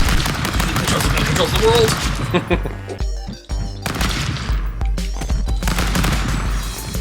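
Rapid gunfire in the video game Stick Fight, dense and loud throughout and briefly easing midway, under excited talk from a player.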